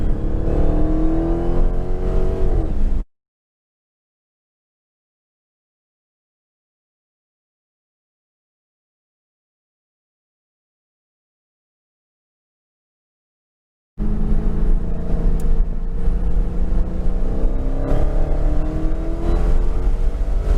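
A Dodge Challenger Widebody engine revs and accelerates hard for a few seconds on a racetrack at Palm Beach International Speedway, Florida, cuts to silence, then returns with a loud, steady motor drone and passing whine.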